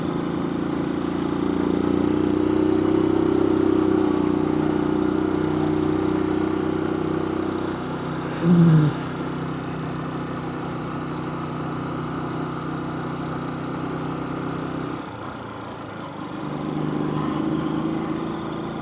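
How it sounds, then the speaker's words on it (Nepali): A motorbike cruises uphill in third gear, its engine holding a steady low drone for the whole stretch, with a brief dip and a short higher note in the middle. "अहिले म थर्ड गियरमा आरामले गइरहेको छु क्रुज गर्दै"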